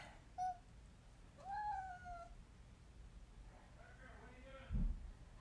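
A house cat gives a few faint, drawn-out meows at a distance, two rising-falling calls and a quieter later one, with a brief thump near the end in a quiet room.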